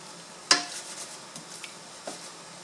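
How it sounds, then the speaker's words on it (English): Pork in sauce cooks in a pan with a soft, steady sizzle, broken by a sharp utensil clink against the pan and a few lighter stirring knocks. "half of this sauce. And allow the meat to cook further"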